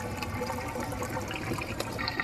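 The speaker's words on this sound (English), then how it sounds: "Top off your fresh water tank." Water runs steadily into an RV's fresh water tank, a continuous close gush and trickle of filling liquid with no talk over it.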